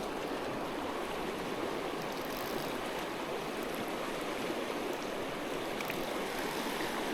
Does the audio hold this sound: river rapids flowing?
yes